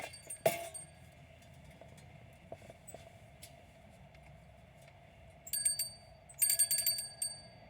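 A small electronic bell device dings several times, with a sharp ring early on and clustered chimes near the end, over a low, quiet background hum.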